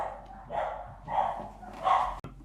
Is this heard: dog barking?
yes